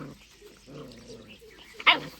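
A dog gives a single sharp bark near the end, close by and fairly loud. Quieter whining or murmuring noises come before it, outdoors where people are feeding stray dogs rotla flatbread.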